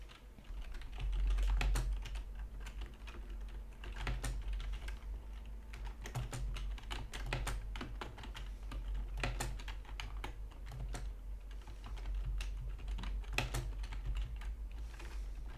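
Steady, close typing on a computer keyboard, with fast irregular clicks and occasional heavier key strikes running continuously for the whole stretch, no voices.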